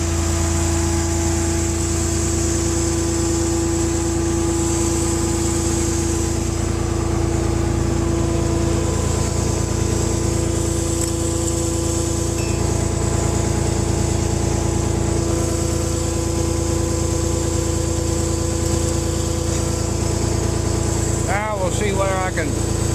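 Skid loader engine idling steadily nearby on a farm, a constant mid-pitched drone with a faint high whine, running throughout with a brief clatter near the end.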